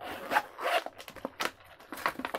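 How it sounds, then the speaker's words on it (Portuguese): Plastic seal tugged upward and peeled off the zipper area of a Ken Fashionistas doll package, a few short crinkly rips and rustles in quick bursts, close and fairly quiet. "Também mesmo processo de retirada do lacre na região do zíper. Puxar para cima."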